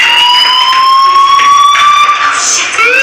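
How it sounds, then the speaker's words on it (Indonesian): A loud, piercing fire alarm rings steadily in a video game, holding sustained high whining tones without a break and shifting slightly near the end. "do you hear that fire alarm? That means you should be outside."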